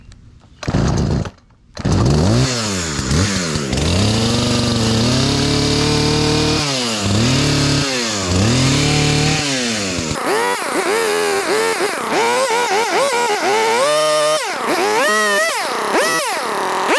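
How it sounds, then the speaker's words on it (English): A chainsaw cuts down overgrown backyard plants, its engine revving up and down in repeated loud, close bursts with idling between cuts over about seventeen seconds. "I have to get the chainsaw out and try to cut this down"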